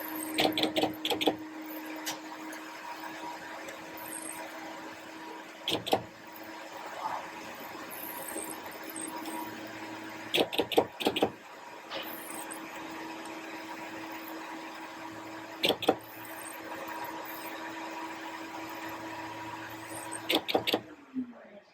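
A Graphic Whizard PT 33LSC laminating and cutting machine runs with a steady mechanical hum, punctuated by several sharp clacks of its cutter at irregular intervals, close and fairly loud.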